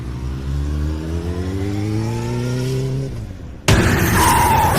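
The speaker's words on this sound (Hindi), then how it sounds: "काली सड़क पर वो अपनी बाइक के साथ घसीटते हुए कुछ दूरी पर जा रुका" A motorbike on a black road revs up loud and steady for a few seconds before an abrupt, harsh impact cuts in, followed by rough scraping noise as it skids and crashes.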